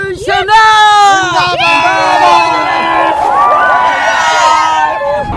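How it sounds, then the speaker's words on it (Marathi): Shiv Sena workers in Vita celebrating an election win: a loud crowd cheering and whooping, with overlapping shouts and high excited voices throughout. "या ठिकाणी शिवसेनेच्या कार्यकर्त्यांनी जल्लोष सुरू केलाय"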